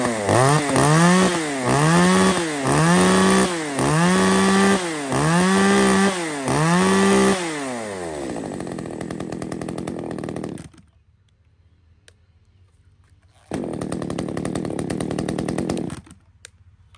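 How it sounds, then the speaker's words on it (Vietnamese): An Echo CS-3300 34cc chainsaw blips its throttle in a steady rhythm, then settles into a continuous run. It cuts off briefly before a second burst of running, and nobody speaks. "X9 là một con máy cưa Echokirit 3300, công suất của nó là 34cc"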